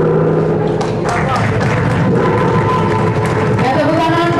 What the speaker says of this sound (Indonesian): tepuk tangan para hadirin